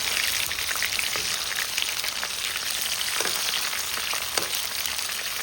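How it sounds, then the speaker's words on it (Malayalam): Food fries in oil with a loud, even crackle throughout, while faint scraping from a spoon turning the pieces comes through at a few points. "ആദ്യമേ ഇടുമ്പോഴേ ഇങ്ങനെ ഒന്ന് ഇളക്കി കൊടുക്കുകയാണെങ്കിൽ ഇച്ചിരി എണ്ണ കുടിക്കാതിരിക്കുക"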